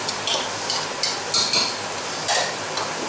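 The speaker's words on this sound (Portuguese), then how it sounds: "Deixa fritando no alho, no óleo, no azeite." Greens frying in garlic and oil while fish stew is prepared, a steady close sizzle with occasional scraping and stirring bursts and no talk.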